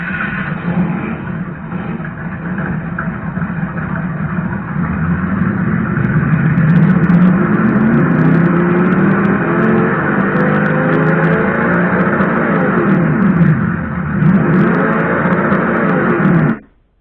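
Recorded Chevrolet engine sound played back through an ESS One sound module, a loud, steady engine drone with a slight swell in the middle that runs for about sixteen seconds and then cuts off abruptly, with no talking.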